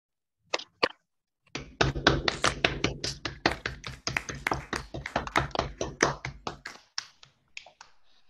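Online participants at a side event applaud over unmuted microphones. A couple of isolated claps come first, then a brisk run of distinct, close hand claps that tails off into scattered final claps.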